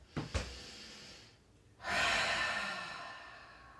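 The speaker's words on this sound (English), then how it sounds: "Take a big inhale here and exhale it out your mouth." A big inhale then a long exhale through the mouth during a floor exercise practice: two quick sharp breaths at the start, a brief pause, then a loud breathy sigh-like exhale that slowly tapers, close and clear, no talk.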